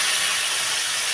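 Water poured into a hot pan of spiced eggplant cooked for a spicy rohu fish curry, giving a loud, steady broadband sizzle and hiss close up with no talk.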